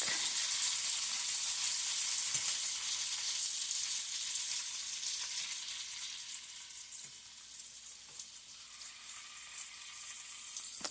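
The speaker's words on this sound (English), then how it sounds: "now it's time to flip the sausage and let the other side cook" Sausage frying in an oiled pan, a steady close sizzle with hissing crackle throughout, easing slightly in volume, with a few faint clicks of a utensil moving in the pan.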